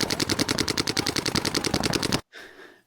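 Rapid automatic gunfire in a video game rattles out in a fast, even burst of about two seconds, loud and close, then cuts off abruptly into a faint tail.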